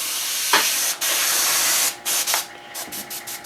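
An airbrush sprays paint onto a custom Power Girl statue in a steady close hiss, broken by a few short pauses and restarts as the trigger is released and pressed again.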